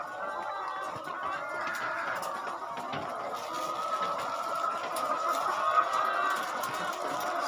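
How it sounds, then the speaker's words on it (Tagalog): Flock of chickens on an egg farm at feeding time, with continuous overlapping clucking and chatter from many birds, a busy, steady din with occasional louder calls. "Ayun guys, magpapakain namin ng manok."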